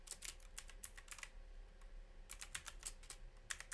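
Typing a search for a WooCommerce shipment-tracking plugin on a computer keyboard: quick bursts of light key clicks with short pauses, close and fairly quiet, no talking.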